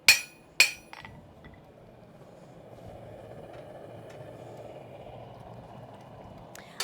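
A hammer strikes metal on the narrow section of a double-horned German pattern anvil, giving two sharp ringing clangs close together at the start and a faint tap at the end, with quiet room noise in between.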